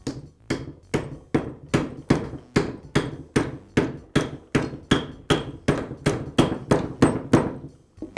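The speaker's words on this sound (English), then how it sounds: "Then I'll use a rubber mallet to tap the bearing in place." A rubber mallet taps a bearing onto a DeWALT drill armature shaft, giving about twenty steady, dull knocks at a brisk even rhythm, close and fairly loud with no voices.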